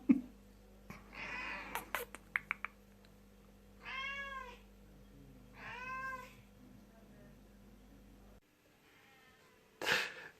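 A cat meows in several drawn-out, rising calls at close range, with a few sharp clicks and knocks between them and a brief loud burst near the end, over a steady low hum.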